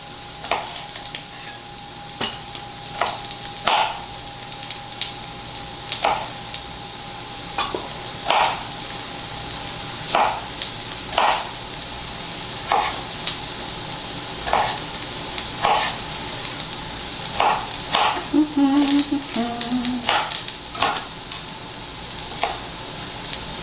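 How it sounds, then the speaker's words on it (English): Chicken stir fry with bite-sized pieces sizzling in a hot skillet under a steady frying hiss, while a utensil scrapes and clacks against the pan in regular stirring strokes, close and clear with no talking. "Throw these in the skillet."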